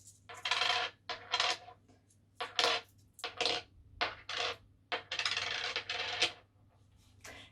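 Coins clatter onto a hard surface in a quick series of bright, jingling drops, some louder bursts, close by with brief pauses between handfuls.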